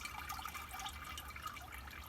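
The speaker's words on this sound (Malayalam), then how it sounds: "ഇതിനകത്തുള്ള സർവത്രാതി വെള്ളം ഇങ്ങനെ ഓറി പില്ലോ കവറിൽ നിന്ന് ഓറി വരും" Water trickling and draining steadily out of a pillow cover stuffed with soaked weeds, being made into garden fertilizer; a continuous soft splashing, close and fairly quiet, with no talk.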